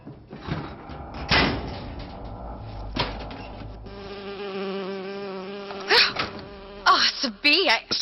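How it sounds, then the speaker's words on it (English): A bee buzzes in BioShock Infinite, a steady insect drone with harmonic whine that shifts pitch as it hovers close, broken by brief knocks and thuds and sharper bursts near the end. "Oh, it's a bee."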